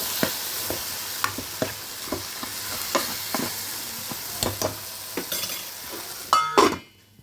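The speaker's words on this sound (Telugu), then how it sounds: "రుచి సరిపడినంత సాల్ట్ కూడా వేసుకుని మొత్తం కలుపుకోవాలి." A spoon stirs curry with salt in a frying pan, scraping the pan in a loose rhythm over a soft, continuous sizzle, with a louder clatter of utensils near the end.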